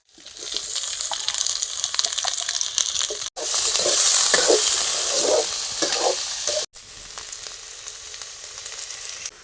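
Onions and potatoes frying in a pan, a close, loud crackling sizzle with stirring scrapes, cut twice by brief gaps and resuming each time, no voices over it.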